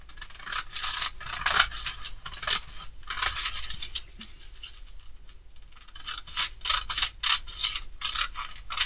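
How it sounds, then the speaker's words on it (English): Scissors snip and scrape through fabric while cutting darts from a drafted dress pattern, a series of close, crisp cutting strokes in uneven bursts with quiet pauses between. "One more thing that I will do is to cut my darts out."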